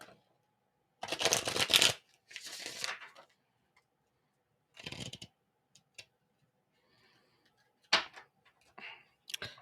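Tarot cards are shuffled by hand in several separate bursts of crisp riffling and flicking, close to the microphone, with quiet gaps and soft taps between them.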